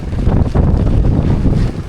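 Strong wind buffets the microphone in loud, surging gusts, a heavy low roar rising and falling throughout.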